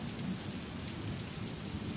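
Heavy rain pours nonstop in Chikkaballapura district, a dense, steady roar of water that fills the whole moment at an even level, with no voices.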